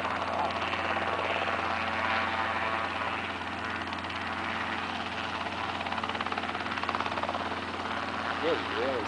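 Robinson R22 helicopter running close by on a first solo normal approach, a steady loud rotor and engine drone with throbbing vibration that holds for the whole stretch, plus faint radio-like voices near the end.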